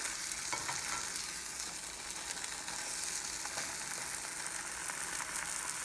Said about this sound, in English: now we're going to get under it and flip it